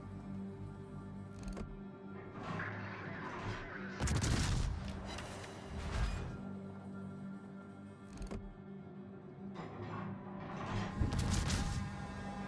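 World of Warships cruiser guns fire in heavy repeated booming salvos, with distinct volleys a few seconds apart over a low rumbling game soundtrack.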